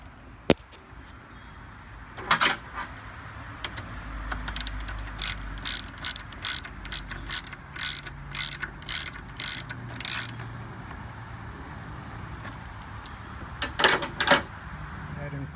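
A ratchet tightening bolts on a Jeep during a dual battery install, with quick bursts of close metallic clicking in repeated strokes, pausing between bolts and starting again near the end.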